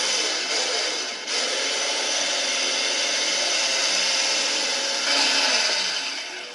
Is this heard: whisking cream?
yes